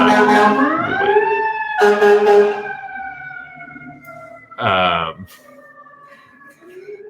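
A siren wails with rising and falling tones, loud and close, sweeping up and holding, with a brief burst of other noise partway through.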